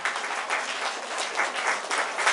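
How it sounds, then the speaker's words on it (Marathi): A church congregation claps and applauds together in a dense, continuous roar of many hands, loud and close, with no pauses. "टाळ्या वाजून प्रभूला धन्यवाद द्या."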